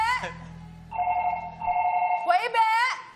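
A telephone rings in short electronic bursts, with a voice cutting in near the end over the ringing.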